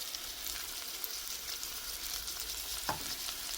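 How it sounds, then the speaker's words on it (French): Onions seasoned with pepper, salt, parsley and marinade sauté over medium heat, a quiet steady sizzle with a soft scrape near the end. "Et je laisse le tout sauter à feu moyen."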